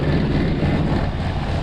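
A vehicle engine runs steadily just after starting in extreme cold of about -76°F, a loud, low, continuous rumble mixed with wind buffeting on the microphone.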